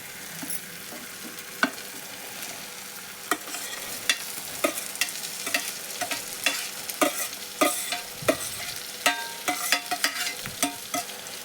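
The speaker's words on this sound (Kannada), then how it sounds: "ಉಳ್ಳಾಗಡ್ಡಿ ಟೊಮೆಟೊ ಫ್ರೈ ಆಗ್ಯಾವ ನೋಡ್ರಿ. ಈಗ ನಾನು ಇದು ಹೆಚ್ಚು ಇಟ್ಕೊಂಡೇನಲ್ರಿ, ತತ್ತಿ ಕುದಿಸಿ ಇದು ಹೋಳೆಲ್ಲ ಹಾಕ್ಕೋತೇನೆ ನೋಡ್ರಿ" Boiled egg pieces stirred into fried onion and tomato in a pan, with a soft sizzle under repeated spoon scrapes and knocks in an irregular rhythm, no talking.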